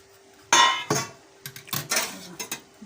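A metal pot lid is lifted off a pan of aloo methi cooking on a low gas flame, giving one sharp clank followed by a few lighter clinks and knocks of metal cookware.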